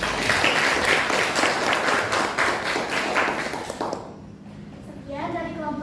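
Classroom audience applauding a student group after their presentation, a few seconds of dense clapping that fades out before a voice begins speaking.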